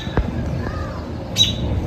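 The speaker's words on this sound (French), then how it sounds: "le petit oiseau il est là, je l'ai trouvé." A small bird gives a couple of short sharp chirps, one near the start and one near the end, heard close over a quiet indoor background.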